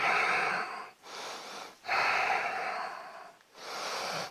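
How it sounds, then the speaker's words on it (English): Three deep, drawn-out breaths during a stretching workout, each a long, loud, airy exhale with short pauses between, close and clear with no talking. "Deep, deep, deep, deep breaths."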